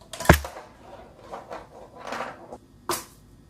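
A marble strikes a homemade snare drum filled with basmati rice, giving a sharp, close knock, scattered soft rattles of grains, then a second clear hit near the end, with no one talking.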